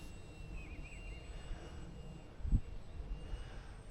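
UMX Air Tractor RC plane in flight at about half throttle, its electric motor giving a thin steady whine from a distance under wind noise, with a brief low thump partway through.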